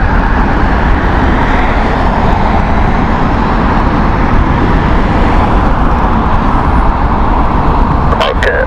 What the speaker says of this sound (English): And this is the 737 MAX here